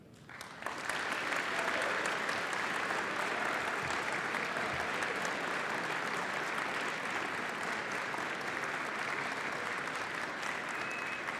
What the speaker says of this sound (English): please join me in one last round of applause to celebrate the achievements of all of our students we've recognized this evening